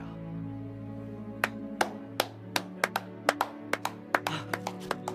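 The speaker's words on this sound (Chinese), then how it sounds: "我也要为润之的话鼓掌。" Scattered, uneven hand claps, roughly a dozen sharp slaps over a few seconds, from a small group of students in a classroom, sounding over a steady low background tone.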